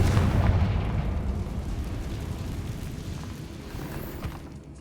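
A spell explosion in the video game Hogwarts Legacy bursts out as a loud, rumbling blast that rolls off and fades over several seconds, with no voices over it.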